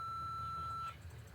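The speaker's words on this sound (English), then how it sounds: "Leave your name and number and a brief message at the beep." A single steady answering-machine beep in a Nancy Drew game holds for under a second, then cuts off, leaving low background hum.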